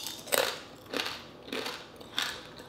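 Someone chews dried squid close to the mic, four crunchy, tearing bites in a steady rhythm with no talking.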